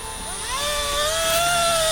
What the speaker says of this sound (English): And you don't want to drill your tap hole more than 2 inches deep.